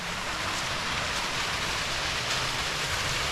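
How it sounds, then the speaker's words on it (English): A small waterfall on a muddy hiking trail in the Big South Fork gives off a steady, broad rushing wash of falling water, loud and continuous with no voices. "See a little waterfall."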